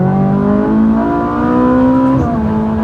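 A Ferrari 458 Italia engine pulls hard from inside the car, a loud steady rising drone that dips briefly at a gear change and then climbs again.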